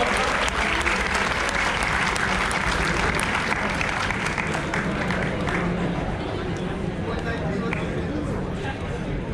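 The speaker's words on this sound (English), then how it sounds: "Let's have a huge round of applause for her." A crowd applauds continuously, dense clapping that stays steady and loud, then eases slightly toward the end.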